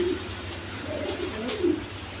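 A big-sized Giant Modena pigeon gives a few soft, low cooing calls, near and clear against quiet background noise.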